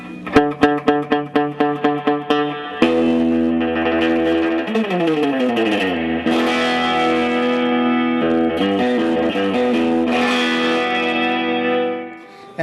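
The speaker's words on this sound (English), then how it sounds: "And the tube-driven reverb." Electric guitar played through a Vox Tony Bruno tube amplifier with its tube-driven reverb, starting with a run of plucked single notes, then sustained ringing chords and bends that wash out in a long reverb tail, loud and with no talking.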